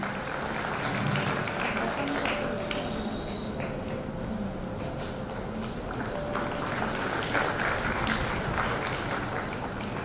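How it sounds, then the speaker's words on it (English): Audience applause at a girls' high school annual day ceremony, a continuous, fairly faint wash of many hands clapping in a large hall, with a faint tone and some background murmur underneath. "A round of applause, please."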